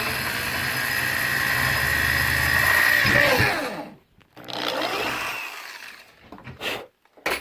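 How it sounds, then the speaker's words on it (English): Power drill boring a small starter hole into a plastic gas can, a steady high whine for about three seconds that winds down, then short bursts of drilling separated by silences. "And then just simply start drilling."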